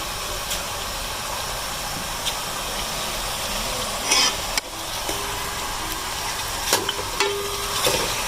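Chicken keema frying in a pan, a steady close sizzle with occasional stirring scrapes and clinks, alone without talk.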